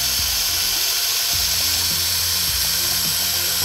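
A mixer drill stirs a waterproofing mixture for a rooftop planting membrane, its motor whining steadily at low speed with repeated short dips and surges as the paddle turns through the mix.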